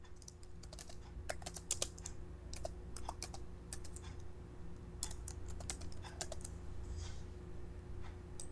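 Text typed on a computer keyboard into a PowerPoint text box, quick bursts of light, close key clicks with short pauses over a faint steady hum.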